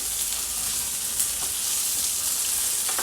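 Stuffed brinjals roasting slowly in a pan over a low gas flame, giving a steady, soft sizzle throughout with a few faint crackles, close and unbroken, no voices.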